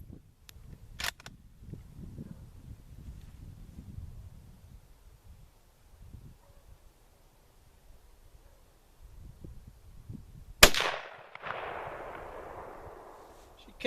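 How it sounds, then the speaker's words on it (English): A Mauser K98 rifle fires a single sharp shot outdoors, followed by a long rumbling echo that fades away. Quiet shuffling and ambient noise come before it. "Shooting at high chest down there."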